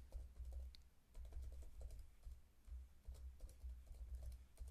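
Password being typed on a computer keyboard, with steady clicky keystrokes in short irregular bursts, close and fairly quiet over a low background hum, with no voice present.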